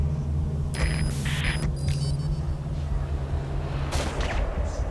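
Gunfire in Metal Gear Solid V: The Phantom Pain, a dense rumbling barrage of shots with a few sharp bright bursts and electronic tones over a steady low drone, with no talk.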